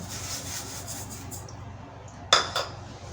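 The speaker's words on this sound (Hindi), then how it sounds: "कढ़ाई को हमने गैस पर रख दिया और गैस को मैंने ऑन कर दिया है।" A metal kadhai is set down on a gas stove in a home kitchen, a single close clank with a brief scrape over a steady low background hum, no one speaking.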